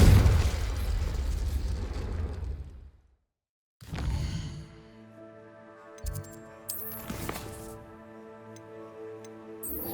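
A Confringo fire spell detonates in Hogwarts Legacy, a loud burst followed by a brief silence, then a second blast and crackling magical ringing tones with scattered pops.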